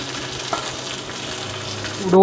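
Hot roasted coconut tempering hits a pot of jackfruit erissery with a loud, steady sizzle and frying crackle, swelling into a stronger hiss with stirring noise near the end.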